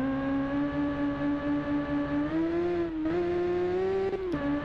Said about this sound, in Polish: Bardzo fajnie chodzi ten motocykl.